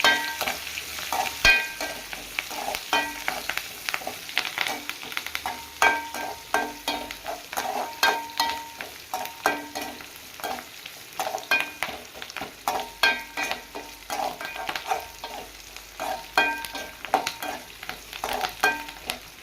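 Cumin, fennel seeds and curry leaves fry in a pan for pumpkin poriyal, giving a steady close sizzle and crackle with frequent scraping stirs throughout, and no talking.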